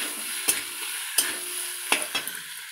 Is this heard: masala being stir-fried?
yes